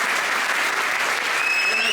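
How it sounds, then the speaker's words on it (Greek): Audience applause at a Karagiozis shadow puppet show, a dense, steady burst of many hands clapping close by throughout, with a faint whistle rising near the end. "Ένα χειροκρότημα στον αδελφό μου,"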